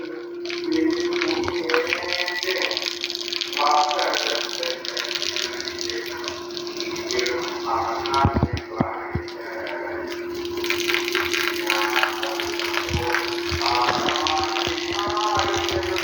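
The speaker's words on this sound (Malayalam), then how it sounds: "അതാണ് വെള്ളം, കറക്റ്റ് വെള്ളം പോകുന്നു." Water gushes steadily from a pump with a constant mechanical hum underneath, occasional rattles and splashes over the continuous flow.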